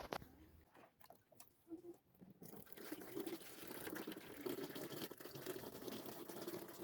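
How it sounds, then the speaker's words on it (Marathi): Water pours steadily into a small Jimmy air cooler, a continuous splashing fill that starts after a couple of seconds of quieter handling noise and keeps running close to the microphone. "तर आता आपण याच्यात कूलरमध्ये पाणी टाकू"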